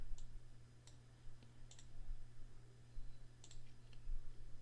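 Computer keyboard typing during a rigging session, heard as sparse, light clicks scattered irregularly over a steady low hum, faint and somewhat distant.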